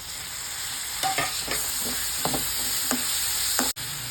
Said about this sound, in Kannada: ಇದು ಹಸಿ ವಾಸನೆ ಹೋಗೋವರೆಗೂ ಇದನ್ನು ಫ್ರೈ ಮಾಡ್ಕೊಳ್ಳೋಣ